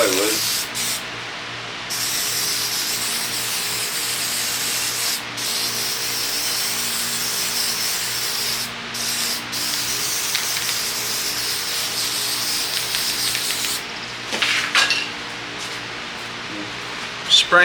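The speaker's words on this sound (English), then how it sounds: "Spraying it on the wood kind of heavy." Continuous hissing spray of adhesive onto wood runs almost without pause, broken by a few brief gaps and a faint knock near the end.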